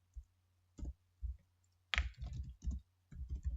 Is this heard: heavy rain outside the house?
no